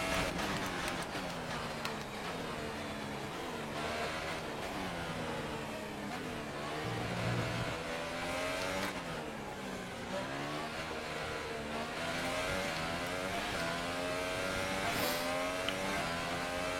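Race car lapping a track, the engine revving and rising and falling in pitch continuously through gear changes, loud and close throughout.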